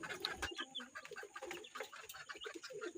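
Young Tiger chicken chicks cluck and chirp softly in short, irregular bursts, fairly quiet and close, with no talking.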